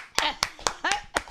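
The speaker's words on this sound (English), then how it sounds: "let's clap for it." Five sharp hand claps spaced about a quarter second apart, close and fairly loud, with some voice sounds mixed in during a morning talk show.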